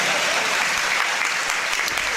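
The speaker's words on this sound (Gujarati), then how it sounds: "મજા આવી ગુરુને, વધાવો એકવાર તાળીથી." A seated audience at a lunar eclipse night-vigil religious gathering in Surat breaks into loud, dense applause, a steady wash of many hands clapping at once that carries through without a break.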